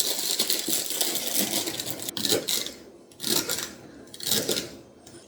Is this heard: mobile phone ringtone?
no